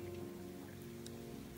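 Heavy rain pours steadily in a Bengali suspense audio drama, a faint, even wash with a low hum underneath, with no speech.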